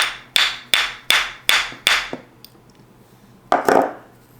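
A plastic screwdriver handle taps repeatedly against a locked Johnson Century 100B outboard motor, six sharp, evenly spaced knocks, then a pause before one last harder strike, close and loud with no talking.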